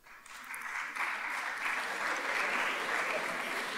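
Loud, sustained applause from the audience at a Model United Nations opening ceremony in Doha, a dense clapping roar that swells within the first second and holds steady.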